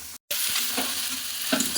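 Potatoes with spices sizzle in a hot pan as a utensil stirs through them, a continuous frying hiss with a brief cut near the start and soft scraping bumps.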